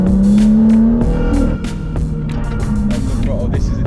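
A BMW 140i drives hard around a tight go-kart track, its engine loud and close, climbing through revs in a steady drone with shifts and changes in throttle, and the tyres squealing now and then.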